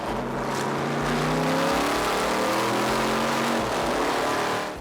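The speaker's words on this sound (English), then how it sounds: "It's just a great thrill to be able to drive a car like that." A classic racing car drives through the streets of Porto, its engine wailing loudly and climbing in pitch as it accelerates, sustained and close for the whole stretch without any voices.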